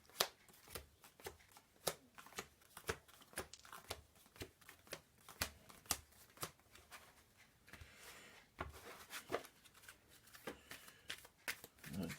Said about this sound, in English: Shuffle the dungeon deck.